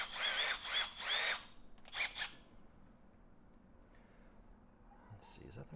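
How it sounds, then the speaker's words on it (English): A power drill spins up in short whining bursts while drilling a hole through the core during a motorcycle service, close and loud in two or three runs, with quiet talk and gaps of near silence between. "we're just gonna drill a hole in the core"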